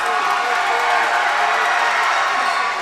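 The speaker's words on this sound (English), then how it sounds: "Crowd didn't go quiet" Loud, steady roar of a packed high school basketball crowd during a free throw at a boys 3A sub-state final, dense cheering and shouting sustained without a break.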